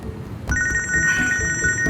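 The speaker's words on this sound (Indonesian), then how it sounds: "HP saya bunyi." A mobile phone rings with a bright electronic ringtone, steady repeating tones starting half a second in and continuing loudly for over a second, close by, with no talking.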